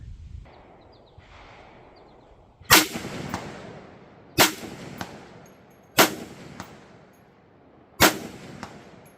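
Four sharp rifle shots from a Bear Creek BCA 350 Legend with a 20-inch stainless upper, fired at a steady interval of about two seconds, each a loud crack followed by a faint metallic ring from a steel buffalo target.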